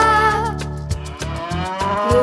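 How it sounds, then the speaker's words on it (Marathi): A cow moos loudly and close, one long sustained low call with rhythmic pulsing overtones, no other voices. "मु मु मु ही आहे गाय"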